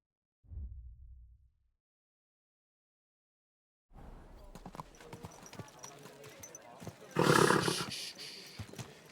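Hooves clip-clop on the ground in the medieval game Kingdom Come: Deliverance II, a quiet irregular rhythm of steps under ambient game sound, after a brief low thud and a pause of silence, with a louder burst near the end.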